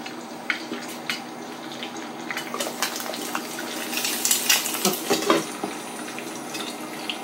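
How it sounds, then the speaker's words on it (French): Eggs poached in water in a small frying pan, giving a steady soft bubbling simmer with scattered clinks and scrapes of a utensil against the pan, busier in the middle and easing off toward the end. "C'est comme poché, mais sauf que c'est à la c'est poché mais à la poêle."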